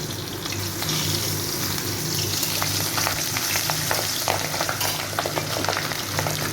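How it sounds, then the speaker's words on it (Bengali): Bacha fish fry in hot oil in a pan with the lid lifted, a loud continuous close sizzle with crackling spatter and occasional clinks. "আমি এবার মাছটাকে উল্টিয়ে দেবো।"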